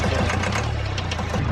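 A John Deere mini excavator's engine runs close up with a steady, rough knocking idle throughout the short stretch, no voices over it.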